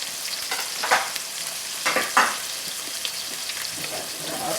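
Onions frying in a pan for okra stew, being stirred: a steady close sizzle with a few brighter scraping stirs rising above it, no talk.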